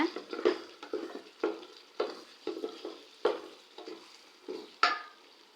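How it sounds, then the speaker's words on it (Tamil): Chicken biryani in a pot gets biryani masala stirred in, a ladle scraping in regular strokes roughly every half second, close and fairly soft over a faint sizzle, with no talking. "பிரியாணி மசாலா சேர்த்து இது நல்லா கலக்கி விட்டுறலாங்க."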